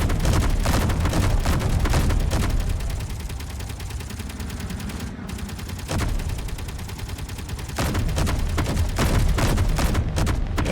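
Rocket fire in the Space Engineers game during a ship dogfight: a dense, loud barrage of booming blasts and rapid bursts, easing to a lower rumble midway before the heavy volleys return.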